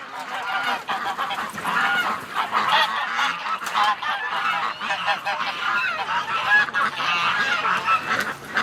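Agitated geese honk nonstop, many overlapping calls close by, forming a loud, restless clamor throughout.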